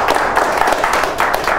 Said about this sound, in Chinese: 给自己一个掌声一下